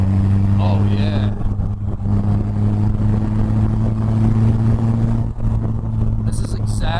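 A Polaris Slingshot's engine drones loudly and steadily while it is driven along twisty roads, with strong wind rush and a brief lift near the end, and a voice speaks over it.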